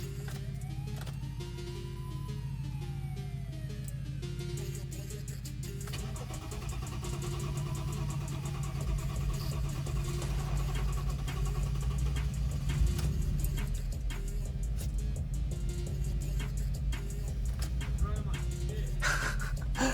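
An old station wagon with a freshly primed fuel pump cranks and catches, then settles into a steady, loud, rumbling idle that continues throughout, with a few brief remarks from people nearby.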